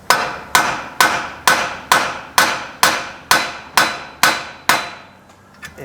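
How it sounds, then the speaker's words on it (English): A tool is struck hard and repeatedly to free a tie rod end on a 2003 Ford Explorer, giving about ten loud metallic hammer blows at an even pace, each ringing briefly, before it goes quiet. "I do use a special tool to get a tie rod end out"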